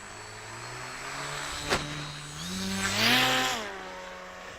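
An H-King paramotor engine buzzes steadily outdoors, then its tone rises and swells louder as the throttle is opened, with a brief sharp click partway through and no talking.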